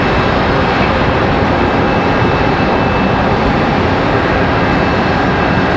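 A PSA Airlines regional jet departs Charlotte Douglas, a loud, steady broadband engine roar close by that holds constant throughout with a faint high whine.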